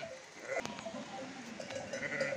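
An orphaned lamb bleats on a farm, several short wavering cries in close succession, with livestock noise and faint background sound between them.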